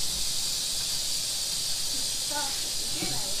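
Angry male snake hissing loudly and steadily, a broad breathy rush that holds throughout, with brief faint voices near the end.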